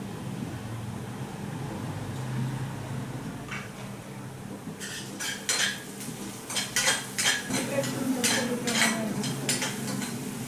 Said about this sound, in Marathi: आता आपल्याला आलं आणि हिरवी मिरची पेस्ट टाकायची